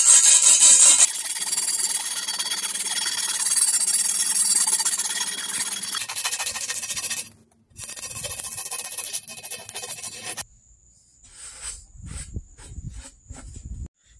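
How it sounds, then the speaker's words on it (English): Sandpaper rubbed by hand over curb rash on a car wheel rim, a close, continuous raspy scraping that stops and restarts, then gives way to quieter scattered scuffs and taps. "you want to take your plumbing sandpaper and you're going to want to smooth this out"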